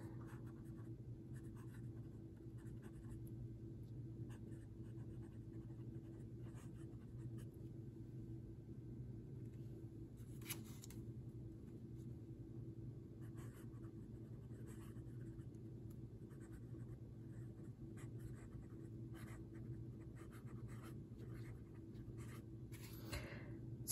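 A Platinum Century 3776 fountain pen with a medium nib writes on paper, giving soft, close scratchy strokes in irregular bursts over a low steady background rumble, with no talking.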